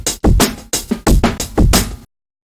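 Heavily distorted, saturated audio from Ableton Live's Saturator, played as a run of loud, choppy, broadband bursts with short gaps, cutting off abruptly after about two seconds.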